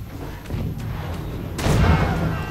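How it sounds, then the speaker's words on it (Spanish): A cannon shot in the strategy game Forts lands as a deep, loud boom with a broadband burst that rumbles and decays, following a few fainter thuds. "Segundo disparo de cañón, pero no vi de dónde vino"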